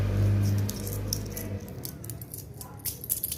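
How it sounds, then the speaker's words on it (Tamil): Chips jingle and clink together with a bright, coin-like rattle in quick irregular bursts, close by, over a low hum at the start. "சிப்பினாலே ஜிங்கு ஜிங்கு சவுண்டு கேட்டு தான் ஆகும். காசு மாதிரி சவுண்டு கேட்கு"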